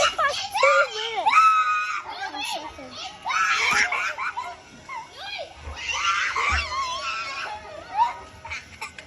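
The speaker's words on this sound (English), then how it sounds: "Screaming." Shrill, sustained screaming in bursts, loud and close, mixed with children's voices and whimpering cries across the stretch, forming part of a collection of annoying sounds.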